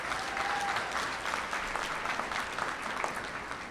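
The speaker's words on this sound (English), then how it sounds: "Please give those folks a round of applause." A crowd at an annual awards ceremony applauds, a sustained wash of many hands clapping at once, steady and fairly loud from start to finish.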